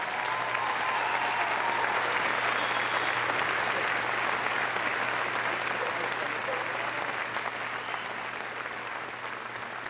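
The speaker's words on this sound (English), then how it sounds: "Give them a massive round of applause." An audience at Crufts dog show claps in a sustained, dense round of applause that tapers slightly toward the end, with no voices over it.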